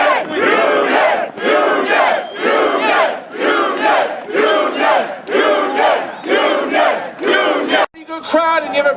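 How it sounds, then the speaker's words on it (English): Large outdoor solidarity rally crowd in Boston cheering and shouting in loud repeated swells, each roar lasting about a second with short dips between, continuing for several seconds before a brief cutoff near the end. "Good crowd and you have a pretty good voice out."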